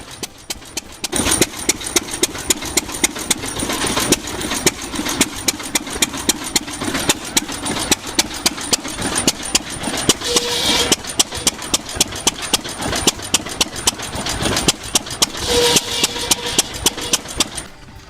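At an antique engine show in Dublin, New Hampshire, an old gas engine drives a saw. The engine fires in a fast, regular chuffing beat that stays loud and close throughout, with brief surges of saw noise partway through.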